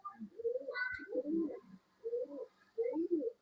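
Pigeons coo in repeated low, throaty bursts, close and fairly loud, with a brief higher chirp near the start, at a pigeon sale in Bangalore.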